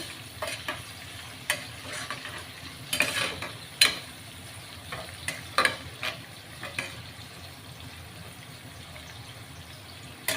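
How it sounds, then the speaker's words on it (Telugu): Sliced onions frying in a pan for an egg curry, stirred with a spatula that makes repeated scraping strokes over a steady, fairly quiet sizzle, with no one talking. "ఉల్లిపాయలు అయితే వేగాయి ఎక్కువ వేగాల్సిన అవసరం అయితే లేదండి"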